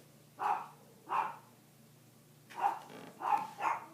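Several deep barks from a dog at moderate distance, two spaced apart then a quicker cluster of three, with quiet pauses between.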